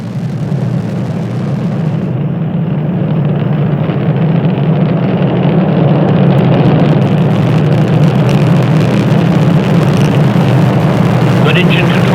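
Orion spacecraft rocket lifting off at dawn, a loud, steady roar of rocket engines holding broad rumbling noise throughout, with a commentator's voice talking over it.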